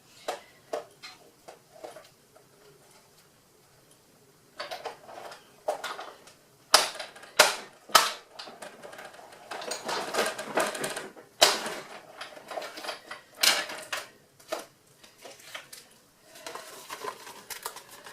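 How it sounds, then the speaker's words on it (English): A die-cutting machine cranks a large die through, giving a run of sharp clicks, ratchets and crunching mechanical bursts that come in uneven clusters, close and moderately loud, with quiet gaps between passes. "Sometimes with these bigger dies it is worth going in both directions, just so that you know that it has cut properly."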